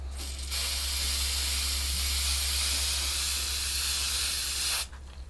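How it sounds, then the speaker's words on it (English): Spray adhesive hisses in one steady, loud burst over homemade clay targets, starting after a short pause and cutting off near the end, with a low hum underneath. "I just start spraying the adhesive over it until it starts to stick up a little bit"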